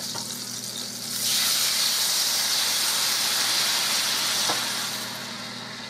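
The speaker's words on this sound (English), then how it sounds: "Now, what's left in the pan, because I have so many pork chops, I'm adding beef broth." Beef broth is poured into a hot pan of leftover pork chop drippings, setting off a sudden loud hissing sizzle and burst of steam that holds steady for several seconds, then eases off slightly, close and with no talk.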